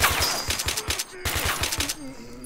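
Rapid rifle fire in STALKER: Shadow of Chernobyl, two quick bursts of sharp repeated shots separated by a short pause, close and loud, with faint game ambience and a passing voice.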